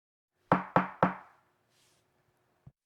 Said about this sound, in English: 3 soft knocks at the door, just after 2 a.m.